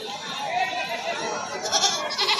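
Goats bleating at a busy goat market in Shirpur, several scattered bleats mixed into crowd chatter and nearby talk.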